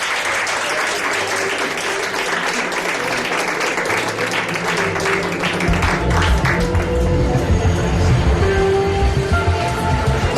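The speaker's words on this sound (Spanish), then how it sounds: "Un aplauso para este señor" A live studio audience claps loudly for a man from the crowd on a Spanish-language mystery talk show, a dense, continuous wash of applause that holds steady throughout.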